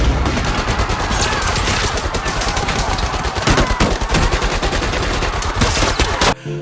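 Sustained rapid automatic gunfire from the World War II shooter Call of Duty or Medal of Honor Allied Assault, a loud, dense stream of close shots that carries without pause, cutting off abruptly just before the end.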